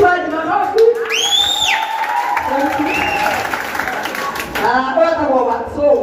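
An audience applauds and cheers steadily throughout, with clapping, whoops and a few raised voices blending into a continuous crowd roar.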